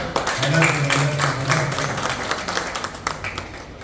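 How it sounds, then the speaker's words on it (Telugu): An audience applauding, a moderate burst of many hands clapping that swells at first and then thins out over a few seconds, with a voice speaking briefly at the start. "మేడం పైన క్లాప్ చేయండి గట్టిగా."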